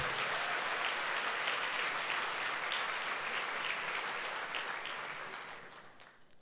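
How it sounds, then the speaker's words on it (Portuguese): A church congregation claps steadily in praise during a Sunday service, a dense, sustained wash of applause that holds strong for several seconds before gradually thinning and fading toward the end. "dê um aplauso ao Senhor Jesus"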